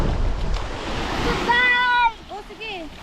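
Strong sea waves rush and wash in a steady, windy roar at the beach. Voices briefly call out over the surf near the end.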